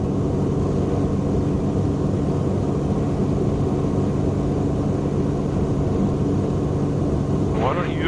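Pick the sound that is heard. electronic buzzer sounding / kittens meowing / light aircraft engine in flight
light aircraft engine in flight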